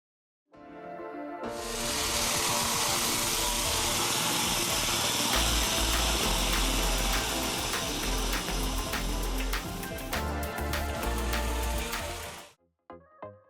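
A homemade single-cylinder engine runs at a steady, even thrum after starting, a loud continuous mechanical drone with rattling overtones, holding for about eleven seconds before cutting off abruptly.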